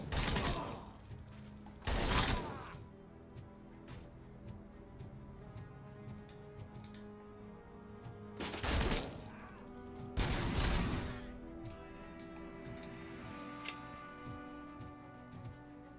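Four heavy grenade blasts go off in the Robocop video game, two early and two later, each a loud broadband boom standing out from a steady game soundtrack bed with faint ticking mechanisms.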